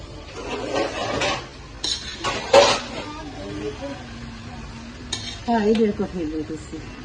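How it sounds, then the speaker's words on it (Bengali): Onion and chopped vegetables stir-fried in oil for fried rice, with spatula scrapes and clattering pan knocks in bursts over a low sizzle, while voices murmur in the background. "কিছু পরিমাণের তেল পেঁয়াজ এবং কেটে রাখা সবজিগুলো দিয়ে দিব ভালো করে কিছুক্ষণ ভেজে নেব"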